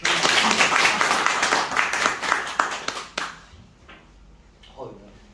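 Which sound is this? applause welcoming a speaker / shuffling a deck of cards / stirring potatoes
applause welcoming a speaker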